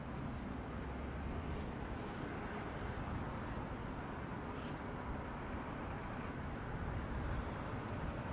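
A Porter Airlines plane passing at Toronto Pearson Airport makes a faint, steady low rumble that swells slightly and stays distant, with no voices over it.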